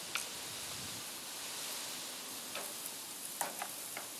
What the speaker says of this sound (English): So you always cook it with your fat side down first, and you want to hear it sizzle.